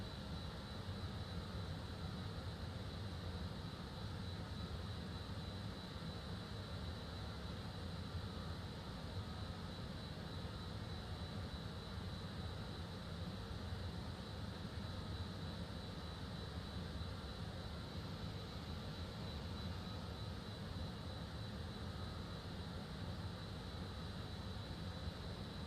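BAE 146-300 jet engines drone in Microsoft Flight Simulator 2020, a steady, even engine hum that continues without change throughout.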